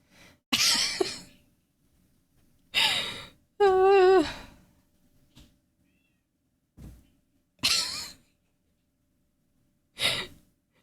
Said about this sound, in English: my cat is screaming outside of my door and I just hear him through my headphones